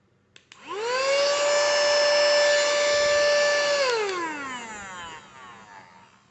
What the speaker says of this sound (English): this type of unit is very useful for using as car vacuum cleaner